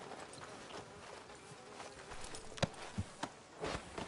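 Horse hooves clop at a walk in the Red Dead Redemption 2 video game, arriving outside a sheriff's office, with a few sharper hoof strikes near the end over quiet ambient game sound.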